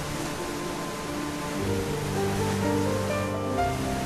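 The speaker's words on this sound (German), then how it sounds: "Hier kann man sogar hinter einem Wasserfall laufen." Water pours steadily at a waterfall along the Wasserfallweg, a loud, continuous rushing wash with no breaks and nobody talking.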